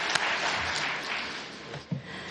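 An audience applauds the speakers at the IYPT 2019 closing ceremony in Tokyo, a steady wash of clapping from a hall crowd lasting a couple of seconds at moderate level.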